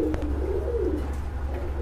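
Mili racer pigeons coo softly and close by, low throaty calls over a steady low hum, with no talking.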